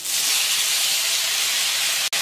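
Chopped tomatoes hit frying onions in a pan for sambar, producing a loud, steady hissing sizzle close by that cuts off abruptly near the end.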